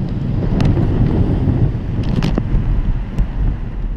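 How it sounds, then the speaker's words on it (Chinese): Strong typhoon wind on a morning in the eastern part of Hong Kong Island, with no rain, roars and buffets the microphone in a loud, steady low rumble with brief gusty flurries throughout. "朝早嘅港岛东区大风"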